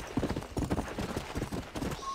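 Horse hooves clip-clopping at a steady walking pace in the Red Dead Redemption: Undead Nightmare video game, a string of distinct, moderately close hoofbeats with no speech over them.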